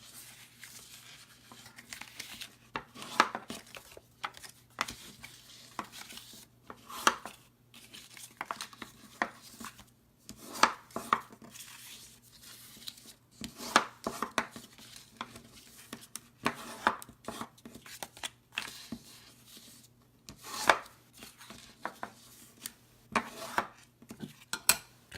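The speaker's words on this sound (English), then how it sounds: "fold and burnish on all sides" Paper for a mini milk carton is creased and burnished along its folds, giving faint, scattered rubs, taps and crinkles at close range over a quiet background hum, with no talk.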